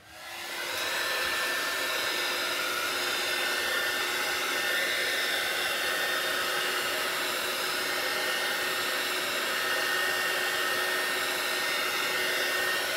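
A hair dryer blows air over thick resin for a table, starting up and then holding a loud, steady whirring hiss throughout with no talking.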